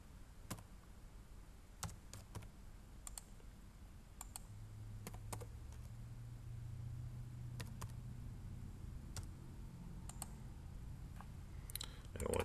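Scattered keystrokes on a computer keyboard while nominal values are entered for a circle in a Faro CAM2 measurement setup, irregular sharp clicks spaced apart over a low background hum.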